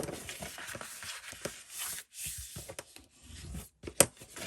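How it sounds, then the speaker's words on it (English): Paper being folded and burnished along score lines for a gift box album, with soft intermittent rubbing and scraping strokes, close and quiet, and one sharp tap near the end. "it's a matter of let's fold and burnish all of our score lines"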